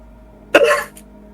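A short, rough throat clearing close to the microphone, a single harsh burst followed by a brief softer catch.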